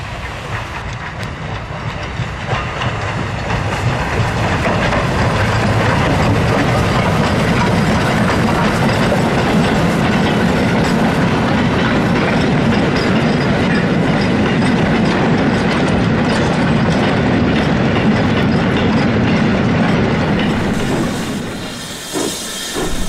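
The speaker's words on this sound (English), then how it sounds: "a full oil train approached, headed by a Black 5 and a 9F" A full oil train hauled by a Black 5 and a 9F steam locomotive passes close by, a loud sustained roar of wheels clattering over rail joints with steam hiss, fading near the end.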